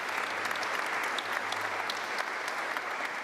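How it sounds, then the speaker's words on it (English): A conference audience applauds the panellists at a co-operative congress, a steady, moderately quiet round of clapping from a large hall with a faint low hum beneath. "Can I have a round of applause for panellists"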